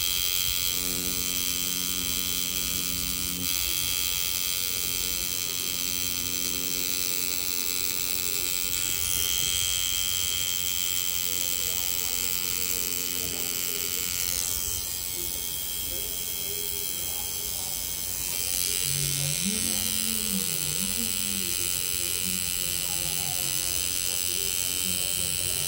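A tattoo machine buzzing steadily and close up while a finger is tattooed with a number 9 needle, a continuous high whine that runs throughout under people talking.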